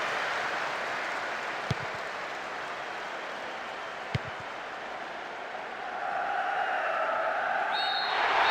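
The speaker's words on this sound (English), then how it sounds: "a huge roar from the crowd" Crowd roar in a football video game at the final whistle of an African Cup of Nations 2002 group match, a steady broad wash of stadium noise that swells louder near the end, with a couple of brief sharp clicks.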